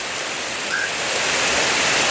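Heavy rain pours steadily in Samata, a dense, even hiss of water that stays constant and fairly loud with no voices.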